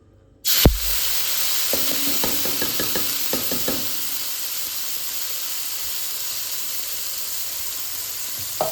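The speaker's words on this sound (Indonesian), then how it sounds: "Ini kita aduk-aduk dulu supaya tidak gosong" Sambal sizzles and hisses steadily in a hot pan after a sudden loud start, with a cluster of sharp knocks and scrapes from stirring in the first few seconds, then a continuous even fry.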